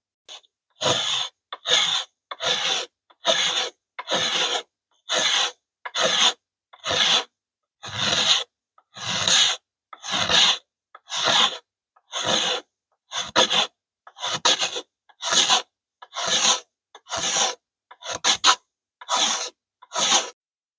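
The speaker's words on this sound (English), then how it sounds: "a little bit of shaving using the side of your knife as a card scraper" A knife edge scraping wood shavings like a card scraper while preparing fire tinder: steady, regular rasping strokes, about one per second, close and crisp, with short silent gaps between them.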